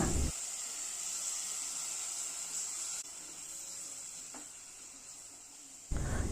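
Onion and tomato fry for prawn curry after a splash of water goes in, giving a steady, soft hiss of steam and sizzle close by. There is a short break midway and a louder clatter at the end.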